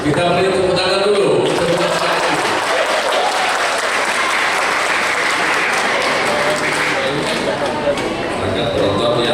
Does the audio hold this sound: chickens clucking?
no